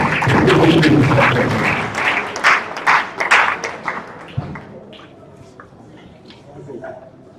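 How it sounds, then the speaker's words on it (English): The crowd at the 2025 Kaduna State Disability Summit opening gives a round of applause, loud and dense for about four seconds, then fading to a few scattered claps as speech takes over. "Can we collectively keep her with a sounding round of applause?"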